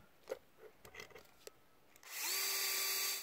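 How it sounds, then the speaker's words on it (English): A power drill bores into a plywood piece, a few soft handling knocks first, then the motor whirs up loud and steady for about a second before stopping. "We use this piece as a sample and we pre-drilled"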